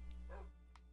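A dog in the Minecraft survival game gives a single short bark-like yip, close and clear over a steady low background hum.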